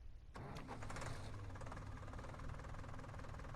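A small Fiat-engined tractor in Farming Simulator 19 cranks and catches just after a brief silence, then settles into a steady, close, rumbling idle with a faint ticking texture.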